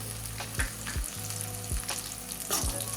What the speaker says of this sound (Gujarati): તેને પણ આપણે સારી રીતે તેલમાં સાંતળી લઈશું।